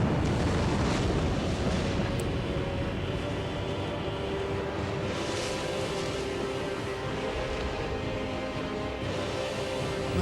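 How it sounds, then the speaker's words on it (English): A sustained roaring fire laser blast in Dark Souls, a dense continuous rushing blaze that stays loud and steady throughout with no talking. "That's a fire laser."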